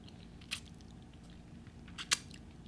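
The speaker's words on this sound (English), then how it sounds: "That first bite." Crunchy bites into a homemade Doritos Locos taco, made with a Dorito chip shell, corn, cheese and hot sauce: two sharp, close crunches about a second and a half apart over a quiet background.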